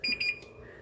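Kitchen timer beeping during banana bread baking, a few quick high electronic beeps in close succession, then it stops and a faint room tone remains.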